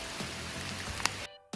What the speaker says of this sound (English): it is way too rainy out for the prepared guy